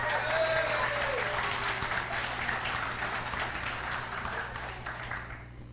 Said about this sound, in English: Save the applause for the students.